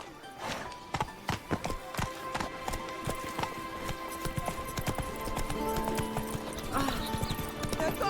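Roach the horse from The Witcher 3 gallops with quick, rhythmic hoofbeats; a whinny and some game music sit beneath the clattering steps.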